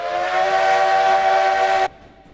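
An ET&WNC 2-8-0 steam locomotive in the Railroads Online video game sounds a loud, steady steam whistle for nearly two seconds, then cuts off sharply, leaving a faint hum.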